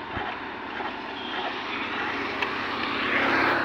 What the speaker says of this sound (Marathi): आवाज तुम्हाला येतच असेल इंजिनचा